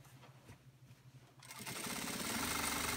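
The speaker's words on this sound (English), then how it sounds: "I just sew them together" A Singer industrial sewing machine stitches the seams of fabric bags: quiet handling noises at first, then the motor kicks in and runs as a loud, steady, close-up whir with a rapid needle rhythm.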